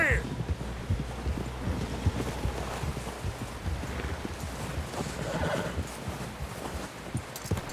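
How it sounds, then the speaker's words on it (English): Horse neighing and hooves clopping in the Red Dead Redemption 2 video game, a whinny near the start and then steady hoofbeats against a windy outdoor background, with voices talking over it. "Someone help John down off this horse"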